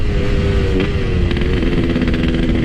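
A Yamaha RX King two-stroke motorcycle fitted with a Boban C33 exhaust drones loudly and steadily at close range, its raspy engine note holding with slight rises in pitch.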